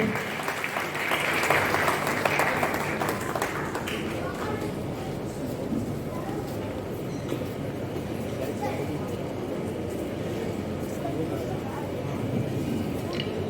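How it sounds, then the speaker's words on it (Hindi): Enthusiastic audience applause at a women's empowerment event welcomes someone speaker to the stage, a dense, steady wash of many hands clapping that holds throughout, with some voices mixed in. "जोरदार तालियों से उनका स्वागत हो।"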